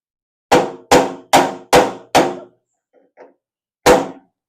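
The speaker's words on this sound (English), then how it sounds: "you may need to use a screwdriver and a hammer like this to pound it out" Five sharp metallic hammer blows in steady rhythm pounding out a dented metal post on a Razor Crazy Cart XL DLX, a couple of faint taps, then one more loud strike, close by with no talking.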